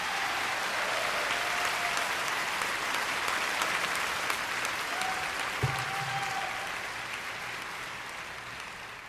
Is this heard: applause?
yes